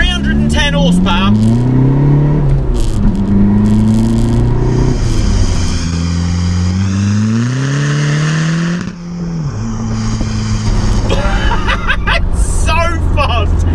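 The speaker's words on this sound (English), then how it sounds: "It's so loud in here, it feels so race car" A tuned 310 bhp, 500 Nm Golf PD diesel hot hatch pulls hard through the gears, its loud engine drone rising in pitch, dropping at each shift and climbing again, heard from inside the cabin.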